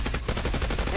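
A loud, rapid burst of automatic gunfire from a gun in the video game COD Mobile, evenly spaced shots packed into one second.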